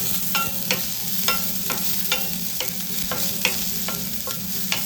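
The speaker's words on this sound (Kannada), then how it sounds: "ಇದನ್ನು ಈರುಳ್ಳಿನೂ ಅಷ್ಟೇ ಸ್ವಲ್ಪ ಬ್ರೌನ್ ಆಗೋವರೆಗೂ ಫ್ರೈ ಮಾಡ್ಕೊಳ್ಳಿ" Chopped onions fry in a pan toward browning while a spoon stirs them, steady sizzle under regular scraping strokes roughly every half second, close and clear with no talk.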